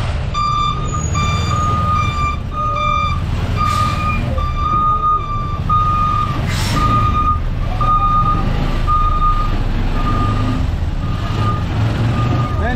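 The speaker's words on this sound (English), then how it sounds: "I think there is this big truck is trying to" A big truck reverses in congested Cape Coast traffic in Ghana, its loud repeating reversing beeps sounding steadily over a constant engine rumble and street noise.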